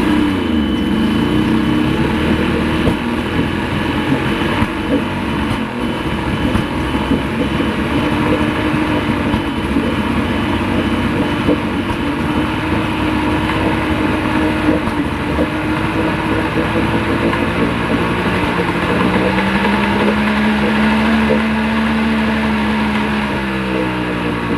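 A 1970 Mercury outboard engine on a Skeeter boat under restoration runs continuously and loud up close, a rough buzzing drone that climbs in pitch toward the end as it revs high.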